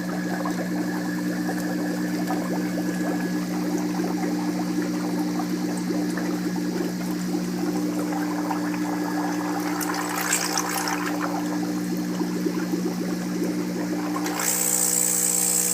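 A Coralife air pump pushes air into water, giving a steady, continuous bubbling and trickling wash over a constant low motor hum, with a brief splashier surge near the end.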